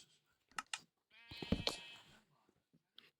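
Sheep in the video game Minecraft bleat in two quick calls early on, then a longer, louder wavering bleat follows, with a small click near the end.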